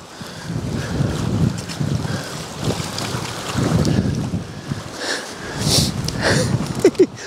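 Wind gusts across a harbour beach during fishing, rumbling and buffeting a low-set microphone in uneven surges, with a steady hiss of air beneath.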